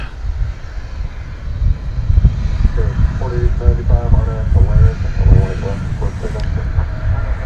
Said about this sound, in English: That is a Mitsubishi CRJ 701ER.